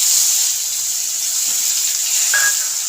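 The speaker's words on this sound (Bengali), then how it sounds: "পেঁয়াজটাকে একটু ভেজে নিই।" Onion paste fries in a pan with whole cumin seeds for a hilsa fish dish, giving a steady, close sizzling hiss with a brief brighter crackle near the end.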